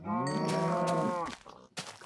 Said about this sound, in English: Come over here, cows.